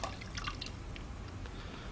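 Faint, sparse drips of water falling from a pottery wheel splash pan into a bucket, a few soft isolated plinks over a low background hum.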